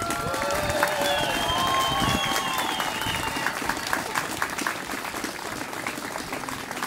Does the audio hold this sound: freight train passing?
no